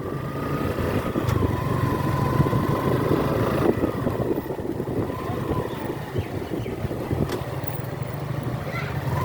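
A motorcycle engine runs steadily on a road near Carmichael College in Rangpur, a continuous close rumble with passing traffic noise around it.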